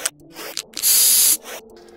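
Resin-based spray paint from an aerosol can is applied to a kitbashed sci-fi model built from plastic trash, heard as short hissing bursts and then one longer, loud, steady spray lasting about half a second.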